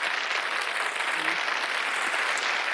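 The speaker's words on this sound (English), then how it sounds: "just a round of applause for all of our wonderful servers and vendors" A crowd at a live event applauds its servers and vendors in a dense, steady wash of clapping that holds at an even level throughout.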